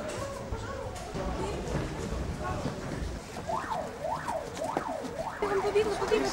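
Official fire alarm during a fire drill, a wavering siren-like tone rising and falling in repeated sweeps over the second half, heard under crowd noise and talk.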